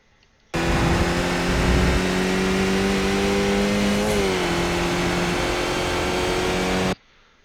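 Skip Barber race car in iRacing at Suzuka West, the engine note climbing steadily under acceleration with a brief dip at a gear change before pulling again, loud and continuous, cutting off abruptly.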